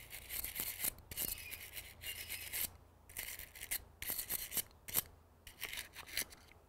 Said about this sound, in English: get you a good wire brush and clean the blade area